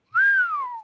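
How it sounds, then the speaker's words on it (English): A single rising-then-falling whistle from one person, clear and fairly loud, lasting under a second with no talk around it. "Letting loose a whistle is supposed to present a challenge to the wind."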